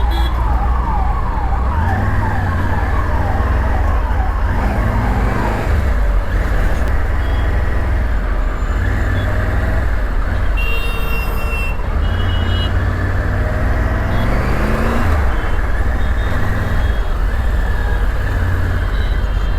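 Busy road traffic heard from a motorcycle moving through it, with a steady low engine drone, repeated vehicle horns and beeps, and a brief siren-like tone partway through.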